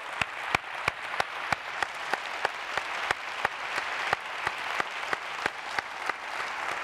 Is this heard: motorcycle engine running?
no